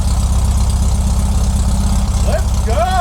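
A 1969 Volkswagen Karmann Ghia engine idles steadily right after a carburetor rebuild, a loud, even low rumble with faint whistling tones near the end.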